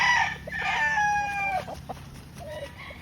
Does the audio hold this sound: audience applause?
no